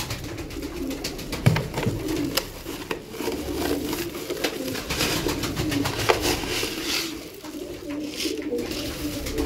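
Pigeons coo and flutter in a steady outdoor bustle while being fed wheat, with soft pecking and wingbeats close by; no talking.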